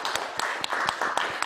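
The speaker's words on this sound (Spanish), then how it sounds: "pido un aplauso para ella." An audience at a migrant cultures film festival workshop giving a brief round of applause, steady clapping from a modest crowd with a few sharper individual claps standing out.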